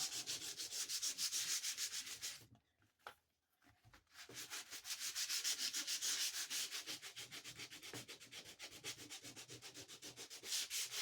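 Rhythmic, scratchy back-and-forth sanding with sandpaper on a large bookbinding cover, close and steady, pausing briefly partway before resuming at the same brisk pace.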